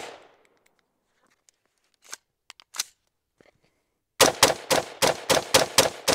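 A PSA Sabre 15 rifle fires in a rapid, evenly spaced string of loud, sharp reports after a few seconds of near silence broken by faint clicks and handling noises.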